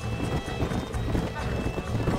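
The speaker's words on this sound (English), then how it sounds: "These are fine horses." Horse hooves clip-clop in a steady trotting rhythm in the video game Red Dead Redemption, close and clear, with voices talking over them.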